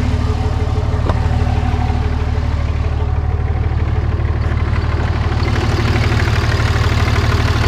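Chevrolet Silverado pickup engine idling, a steady loud low rumble running unbroken throughout with a faint knock-like undertone and no talk.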